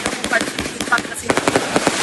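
Fireworks and firecrackers set off by a family during a New Year celebration in Barangay Bulosan, Dagupan City, Philippines, giving a dense run of sharp pops and cracks in quick succession over crowd noise and talk.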